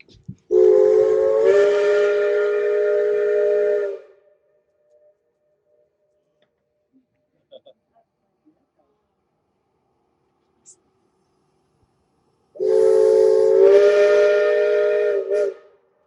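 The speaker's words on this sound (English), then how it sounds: "they say you can hear those whistle blasts from over 10 miles away" Two long, loud steam whistle blasts from a Cripple Creek and Victor Narrow Gauge Railroad train in a Colorado valley, each lasting a few seconds, separated by near silence with a few faint clicks.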